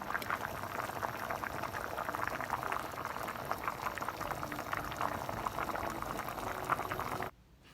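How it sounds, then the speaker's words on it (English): A pot of Jamaican rice and peas with pigtail and garlic boils steadily, giving a continuous close bubbling and simmering with no voices, until it cuts off abruptly near the end. "basically we are cooking it until the peas is soft and the pigtail is soft as well"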